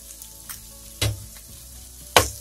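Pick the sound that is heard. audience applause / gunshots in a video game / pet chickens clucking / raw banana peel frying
raw banana peel frying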